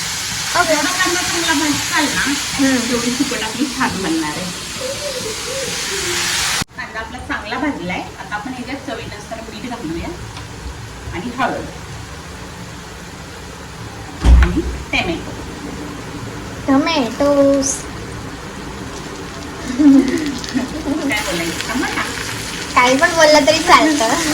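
Dried shrimp (sukat) roast in a pan for a spicy ghati-style dish, crackling and sizzling throughout with repeated scraping stirs, while a voice talks over the cooking at times.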